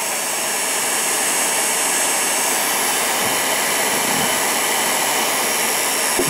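A Revere P-90 8mm projector's motor and blower run steadily while being oiled, giving a loud, constant whirring drone with a high whine and no pauses.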